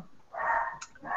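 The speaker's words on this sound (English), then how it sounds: "that's my dog going crazy over who knows what." A dog barks indoors at a distance, giving a couple of muffled, drawn-out yelping barks against a faint room background.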